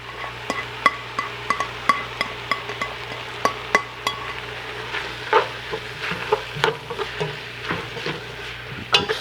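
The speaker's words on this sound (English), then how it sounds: "Quick stir." A spoon scrapes and clinks against a pan while green chiles, tomatoes and cilantro are stirred over a soft sizzle, the strokes landing in a quick, fairly regular rhythm close by.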